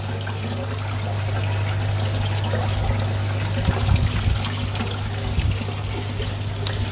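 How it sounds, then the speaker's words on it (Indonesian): Salt being stirred into koi aquarium water to dissolve it, a close, continuous trickling and swishing of water over a low steady hum, with a few louder splashy strokes midway. "Aduk dulu supaya obatnya benar-benar rata dan supaya garamnya benar-benar larut."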